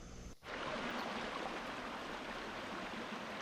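A rainforest stream flowing down from the mountains rushes steadily in a broad, continuous wash of water, close and even in volume, with a brief dip near the start.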